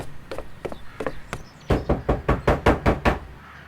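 Knocking on a door in the video game Doki Doki Literature Club: four spaced knocks, a short pause, then a quicker, louder burst of about eight heavy wooden raps, with no talking.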